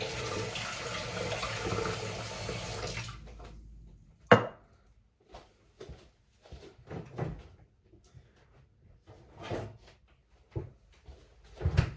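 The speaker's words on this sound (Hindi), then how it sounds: "तो चलो अपन यहाँ पे पहले तो अपन गर्म पानी लेते हैं" Hot water runs from a tap in a steady rushing stream for about three seconds, then cuts off, followed by scattered clunks and knocks of handling.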